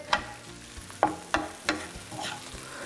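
Broccoli tossed with lemon juice in a hot pan, a soft continuous sizzle broken by three or four sharp scraping strokes of a utensil against the pan, close and without talk.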